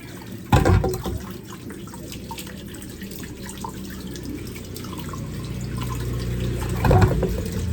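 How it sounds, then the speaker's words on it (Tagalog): Cassava root is washed in water, with close splashing and dripping, a couple of louder sloshes near the start and end, and running water trickling steadily between them. "hugasan na natin yung ating kamuting kahoy"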